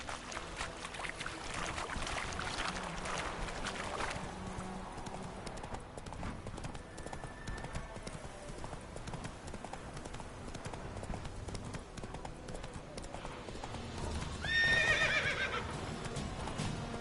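A horse galloping in The Witcher 3: Wild Hunt, steady rhythmic hoofbeats with game ambience underneath, ending in a short whinny near the end, moderately quiet overall.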